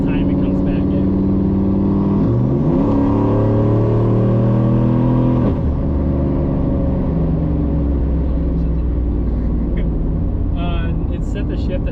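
A turbocharged truck engine revs hard under acceleration, its pitch climbing, dropping sharply at a gearshift, then climbing again through a second shift before settling into a loud, steady drone; a voice speaks briefly over it.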